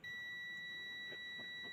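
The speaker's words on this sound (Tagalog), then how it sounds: "Pagka nag-beep siya, good siya eh." A continuity tester beeps while testing the cord of a Hanabishi flat iron that has no power, giving one sustained high electronic tone that runs unbroken through the whole moment.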